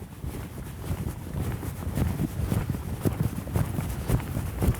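A horse's hooves clip-clop in a steady, quickening rhythm as a rider asks a slow-gaited mare to move out faster, close by with light wind noise on the microphone.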